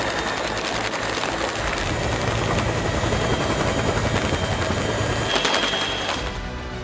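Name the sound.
army rescue helicopter during Sri Lanka flood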